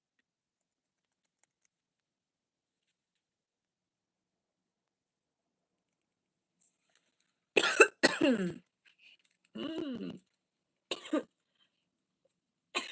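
A person coughs in a quiet indoor space: after a long silence come several close, harsh coughs in short bursts spread over a few seconds, with brief pauses between them.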